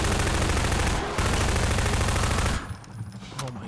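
Rapid automatic gunfire from Half-Life 2 hammers loudly and continuously for over two seconds with one brief gap, then cuts to quieter game ambience with faint distant shots.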